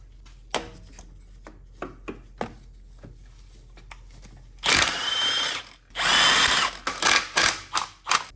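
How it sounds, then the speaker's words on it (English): An impact wrench works on 16mm differential bolts of a 2011 BMW 328i with the N52 engine. It fires in two long, loud rattling bursts, with shorter close-up hits and clicks before and after them. "That way I can access it with my impact."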